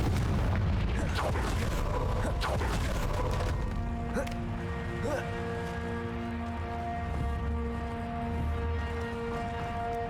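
Confringo spell explosions in Hogwarts Legacy, a couple of booming blasts early on that fade into a lingering ringing tone, with a voice shouting the spell over the noise.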